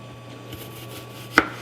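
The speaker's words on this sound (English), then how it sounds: "we need to slice up an onion" A knife slices once through an onion on a cutting board with a single crisp, close cut, set against a low steady background hum.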